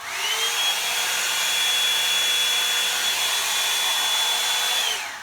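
A Revlon One-Step hair dryer brush blowing hard on its high setting, a loud steady whoosh with a faint whine, running evenly for about five seconds before shutting off.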